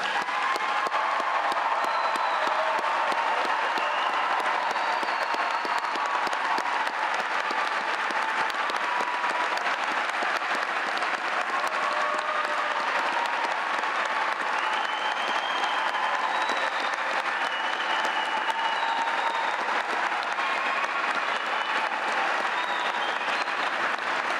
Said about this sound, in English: if we could all give them one last round of applause